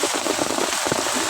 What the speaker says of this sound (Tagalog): Malakas ang ulan, ayan, nababasa na po tayo kahit may payong